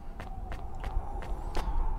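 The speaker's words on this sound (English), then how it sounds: "I hear footsteps, but I think they are your own echoing back" Footsteps echo through the game Cloudpunk, with about five or six evenly spaced steps over a low ambient hum and no speech.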